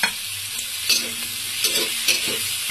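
Green chillies fry in hot oil in a kadai, a continuous bright sizzle with several stirring scrapes and pops, close and alone without speech.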